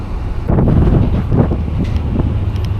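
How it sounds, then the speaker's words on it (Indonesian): Steady wind buffeting a microphone outdoors at a ferry crossing in Norway, a continuous low roar with gusty surges throughout. "Tapi di luar sini lumayan berangin."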